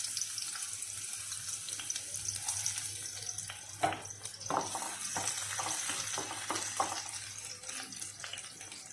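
Onions sizzle in hot oil at a moderate, steady level. Irregular clinks and scrapes of stirring stand out through the middle, and a low hum runs underneath.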